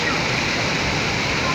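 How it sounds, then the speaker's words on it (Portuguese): Flowing river water in dry-season September, a steady broadband rush of running current, close and continuous, with someone talking over it. "como é que é bom pra tomar banho o rio aí, tá vendo? Água corrente"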